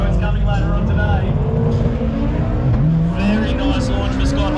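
Drag racing cars, one a Toyota Corolla, launch down the strip together, engines revving hard with a rising pitch sweep as they pull away, loud and close, with a commentator talking over them.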